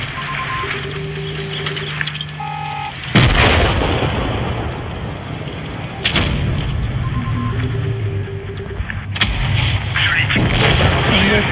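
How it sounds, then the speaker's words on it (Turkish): Cannon fire from an AMX 13-90 tank in a video game: three heavy, loud booms at roughly three-second intervals, each with a long rumbling decay, over game noise with short electronic interface tones. "Bir atış yaptık, 2000 vurduk."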